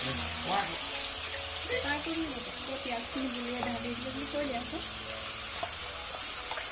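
Chopped onions sizzle in a hot pan, a steady loud frying hiss with stirring scrapes, while a voice talks over it.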